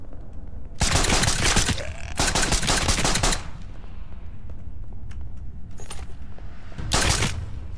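Bursts of automatic gunfire in the indie adventure game The Creation: two long rapid volleys back to back, a short pop, then another burst, loud and close over a quieter background.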